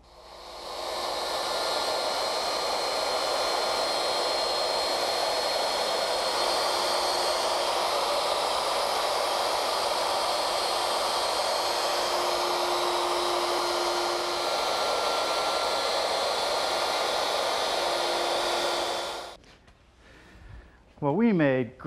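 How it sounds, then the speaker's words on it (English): A wood router cuts a rabbet for an outdoor garden table, a loud steady high whine held for about nineteen seconds before it cuts out and spins down. "make two more passes with the router"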